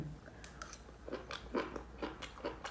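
Someone eats food up close, with a run of quiet, evenly spaced crunchy bites and chewing sounds, faint but clear, with no talk.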